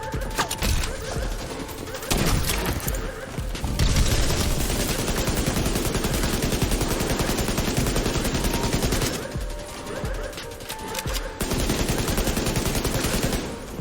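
Sustained automatic gunfire from the video game The Division 2, loud and dense, with rapid rattling bursts running almost the whole time and brief gaps between volleys.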